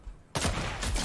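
A sniper shot in Fortnite cracks out suddenly after a quiet moment, one loud report followed by a trailing burst of gunfire noise.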